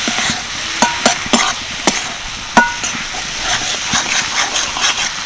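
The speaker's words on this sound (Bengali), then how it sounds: "মাশরুমগুলো দিয়ে একটু নাড়াচাড়া করে নিচ্ছি মশলার সাথে" Mushrooms being stirred into a spice masala frying in a pan, with a steady sizzle and hiss broken by several sharp scraping clicks of the spoon against the pan, close and clear, with no talking.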